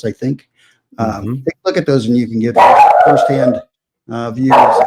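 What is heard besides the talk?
dog barking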